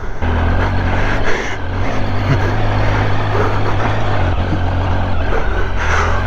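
An off-road vehicle on Shinko 705 tires rides through deep mud, its engine droning loud and steady throughout with churning, sloshing noise layered over the low rumble.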